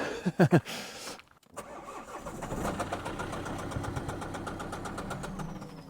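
An old Mini's engine cranks briefly, catches and settles into a rough idle with a fast, rattling clatter ticking steadily throughout.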